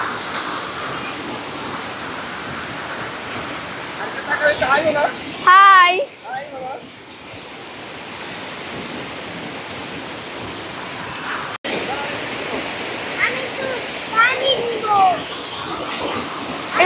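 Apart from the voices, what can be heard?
waterfall rushing, Bandarban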